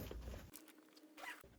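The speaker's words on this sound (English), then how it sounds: "2 zippers on each side" A zipper on a bug screen in a 2026 ProMaster camper van is pulled in two quick, close zipping strokes with a short pause between them, heard alone.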